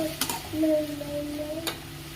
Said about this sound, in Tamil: நல்லா வதக்கி விடுங்க. நல்லா வதங்கட்டும். எண்ணெய் பிரிஞ்சு வர வரைக்கும் நல்லா வதங்குங்க.